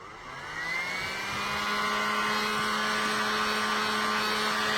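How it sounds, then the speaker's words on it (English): A heat gun blowing over limewash paint on furniture to dry it, a steady whooshing hum that swells up in the first second and then holds constant and close. "Bring back over my heat gun."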